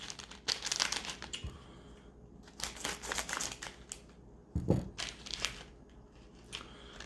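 Styrofoam hot sauce packaging is crinkled and squeaked in close, irregular bursts of handling, with quiet pauses between them.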